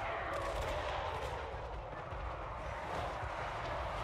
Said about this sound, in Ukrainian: Так, все, гармати переставайте стріляти.